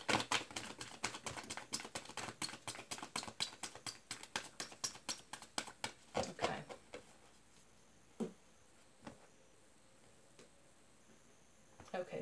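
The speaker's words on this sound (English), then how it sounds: "Last shuffle." Tarot cards being shuffled, a rapid run of crisp riffling clicks that stops abruptly, followed by a few isolated taps of cards being set down in a quiet room.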